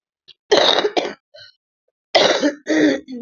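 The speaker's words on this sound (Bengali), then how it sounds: "কাশি হচ্ছে এখনো কমেনি তাই ভয়েস দিতে দিতে কাশি পেয়ে যাচ্ছে" A person coughs and clears their throat close to the mic, in two short bursts separated by a brief pause.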